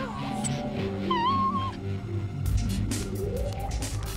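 A cartoon cat yowls in a rising and wavering cry, followed by a clattering thump and scuffling noise, fairly close and clear.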